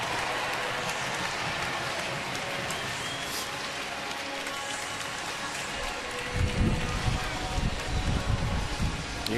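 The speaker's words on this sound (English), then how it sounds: "You can probably hear the wind gusting up here at this level through our headsets." Wind gusts hard across the upper level of a baseball stadium during a Washington game against Los Angeles, a broad roaring rush of air that swells louder and rumbles near the close of the clip.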